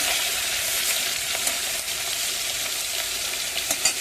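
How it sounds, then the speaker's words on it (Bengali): Fish sizzles steadily in hot oil in a pan, a continuous close crackling hiss with small pops, no voices. "এদিকে মাছ ভাজা হচ্ছে"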